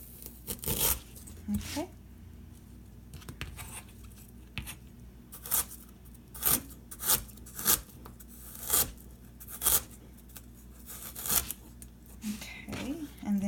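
A knife cuts through washed fresh ginger root in a series of crisp, close, irregularly spaced slicing snaps, with a brief spoken word.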